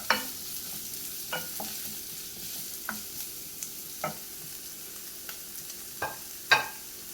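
Chopped onion stirred and sautéed in a pan for a soya dish, giving a steady soft sizzle broken by several sharp scrapes and stirring knocks, close up with no talking.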